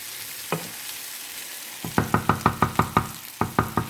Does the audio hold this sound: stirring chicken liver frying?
yes